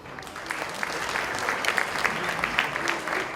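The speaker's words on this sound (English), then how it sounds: "a warm round of applause to Mr. Rishi Kapoor" An audience at an anniversary awards night applauds for Rishi Kapoor, a dense, sustained patter of many hands clapping, fairly loud and steady for a few seconds.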